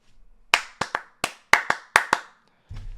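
Eight sharp, close hand claps in an uneven rhythm, each crisp and distinct against near silence, followed by a brief low murmur at the end.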